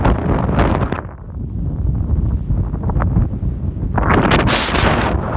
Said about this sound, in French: Il y avait énormément de vent.